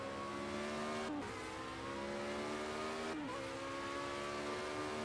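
Formula A open-wheel race cars from Project Cars 2 scream at high revs, the engine note climbing steadily with two quick upshifts, loud and sustained with no talk.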